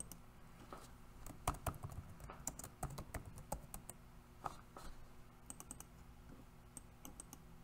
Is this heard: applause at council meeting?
no